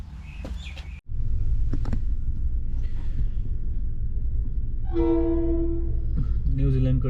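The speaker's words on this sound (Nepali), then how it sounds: "यही हो अकल्यान्ड जाने ट्रेन" A Hamilton to Auckland train in New Zealand rolls slowly past with a loud steady rumble, then sounds its horn in a sustained blast followed by a second shorter blast, close by.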